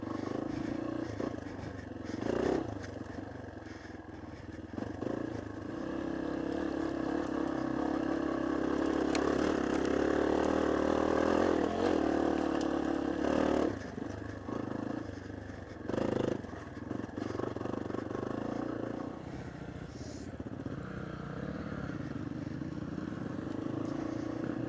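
A Yamaha XT250 dual-sport motorcycle engine works along a rugged NW Alabama trail, a steady mid-pitched drone rising and easing with the throttle, with occasional clatters and knocks from the terrain.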